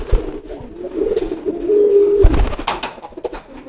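Pigeon cooing, a low rolling coo repeated a few times close by, with some rustling and light handling noises toward the end.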